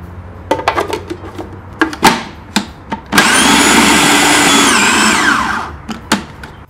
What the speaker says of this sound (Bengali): আমি এই ডালটাকে অনেক বেশি ব্লেন্ড করব না